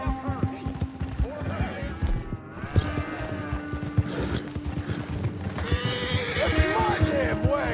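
A horse in Red Dead Redemption 2 whinnies while hooves clip-clop in a steady rhythm at close range, with game music and ambient tones underneath and no voices.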